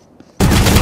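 Sudden loud gunfire bursts out after a near-silent moment in the tactical shooter Valorant, a dense close rapid volley that fills the short stretch.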